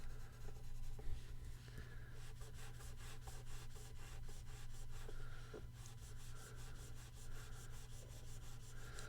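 Wax stains are scraped off a baseball card in quick, repeated strokes, a close, dry rasping and rubbing with a steady back-and-forth rhythm over a low background hum, with no talking.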